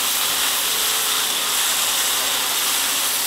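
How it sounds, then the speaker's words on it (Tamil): Brinjal sautéing in a pan for chutney gives off a steady, loud, broadband sizzling hiss that runs unbroken from start to finish, with nobody talking. "இது வதங்கிட்டு இருக்கட்டும்"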